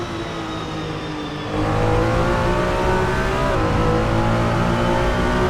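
A GT race car on track powers out of a corner, its engine note rising loud and close, then a steady high-revving roar carrying on continuously.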